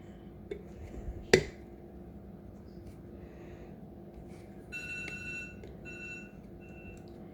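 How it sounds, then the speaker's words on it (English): A faint electronic alarm beeps in repeated bursts in the background, preceded by a sharp clatter, with low kitchen noise throughout. "The husband's alarm is going off."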